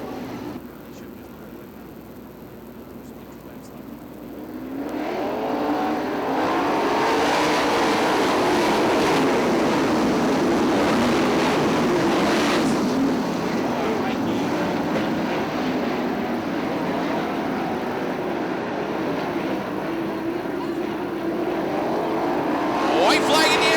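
Several 410 sprint cars roar around the Fremont Speedway dirt oval, engines swelling as the pack passes, then holding a sustained loud drone as cars circle, with a track announcer talking over the noise.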